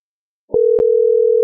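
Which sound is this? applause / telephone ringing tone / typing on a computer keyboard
telephone ringing tone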